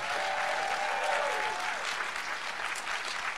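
A live audience at Vulture Fest claps steadily for a few seconds, a dense, even burst of applause filling the room with no voices over it.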